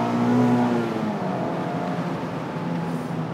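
Engine of a Mazda MX-5 Miata ND driven hard on a twisty mountain road, a steady loud drone that rises then eases as the car pulls through a bend.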